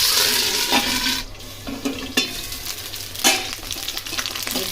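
Steady hot-oil sizzling and spattering as tempering spices, tomato, coriander, chili and ginger fry, with occasional sharper crackles and stirring clatter, close and fairly loud, no talking.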